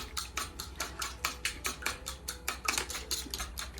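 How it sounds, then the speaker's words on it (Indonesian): Eggs are whisked by hand in a bowl, a quick, steady run of close clinking and tapping strokes that repeats evenly with no talking. "Mari kita kocok telur."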